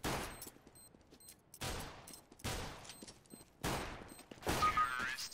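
Four sharp bursts of rapid gunfire in the video game CS:GO, each followed by a short gap, then a final burst of shots.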